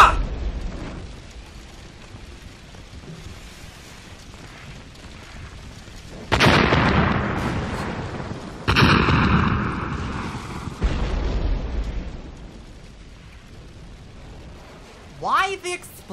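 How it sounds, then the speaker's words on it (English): Cartoon explosions strike a car, a series of loud booming blasts with bursts of debris, set between stretches of quieter rumble and character voices. "It hit the car down there. That explosion just rang their dinner bell."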